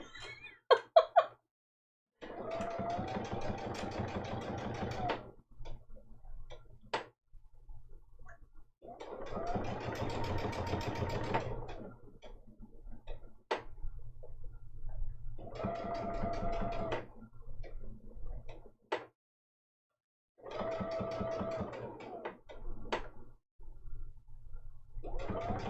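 A sewing machine stitching an appliqué flower block runs in several separate bursts of rapid whirring, each a few seconds long, with short quiet pauses and small clicks between runs.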